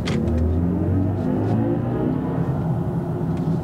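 Synthetic driving sound of a BMW i4 M50 electric car, a steady, close whirring hum with layered tones that shift slightly as the car moves, with no talking over it.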